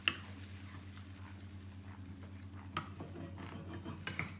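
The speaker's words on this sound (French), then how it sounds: "je n'ai plus qu'à laisser mijoter tranquillement la butternut avec le lait de coco et puis tous les aromates" Butternut squash curry with coconut milk and spices simmers in a pan, a soft steady bubbling hiss with a low hum beneath and a few faint utensil clinks near the start and end.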